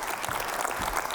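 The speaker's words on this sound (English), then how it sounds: "now a warm applause to you" An audience claps for a speaker, a brief, fairly faint burst of steady applause.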